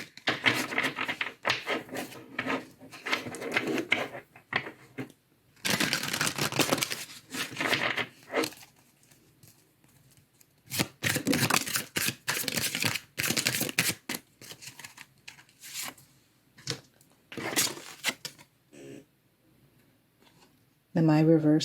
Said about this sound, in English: I will shuffle the tarot.